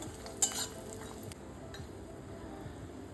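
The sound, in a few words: frying lentil dumplings (bori) in oil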